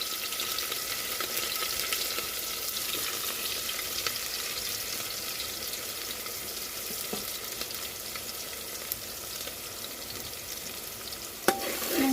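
Onions and finely chopped green chilies sauté in oil with a steady, even sizzle. Occasional soft scrapes and clinks come from stirring, ending in a sharper knock.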